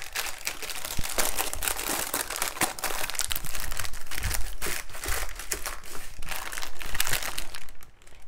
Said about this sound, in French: je replie mon papier sulfurisé et j'appuie bien sur les barres de façon à ce qu'elles soient régulières